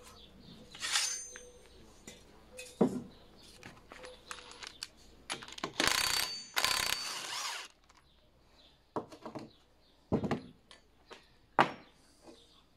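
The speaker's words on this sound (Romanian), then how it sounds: "O să desfac șurubul, o să ridic" Metal tools clanking and scraping while a bolt is undone on a homemade flat-bar edge rolling machine, close by in a workshop, with irregular bursts of clatter and rattling separated by quiet pauses.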